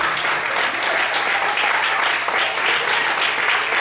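Sustained audience applause at an evening church worship service, a dense, loud wash of many hands clapping continuously throughout.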